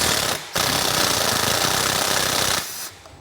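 Impact wrench working a bolt on a Vespa Primavera, Sprint or Liberty 150 scooter, a loud close hammering buzz in one sustained burst of about two seconds, with a brief pause before it and a tapering end.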